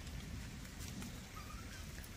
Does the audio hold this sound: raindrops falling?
yes